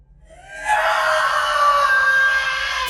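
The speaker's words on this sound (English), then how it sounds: "she screams in pain and anger" A woman in a film scene lets out a single long, loud scream of pain and anger that swells quickly and holds strained and raw for over two seconds.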